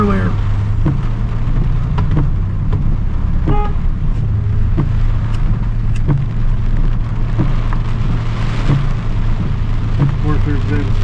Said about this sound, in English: Of course, there's been 2 hours more rain since I went earlier. And it's non-stop rain.